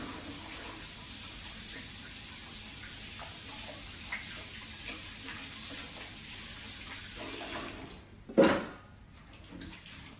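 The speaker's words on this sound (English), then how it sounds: "Just gonna wash my hands" A tap runs steadily as hands are washed under it in a home kitchen. The water makes a constant hiss throughout, ending in a brief sharp knock or splash near the end.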